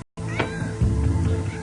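A kitten mews in short, close cries during a stage magic trick, a few thin meows over a steady background hum, with a brief silence at the very start.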